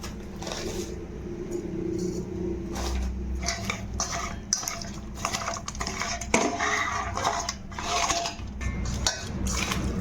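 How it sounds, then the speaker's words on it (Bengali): Salt being mixed into turmeric-coated rohu fish pieces by hand, giving continuous close wet squishing and light clinks against a metal bowl, with no talk. "আমি নুনটা ভালো করে মিক্স করে নেব।"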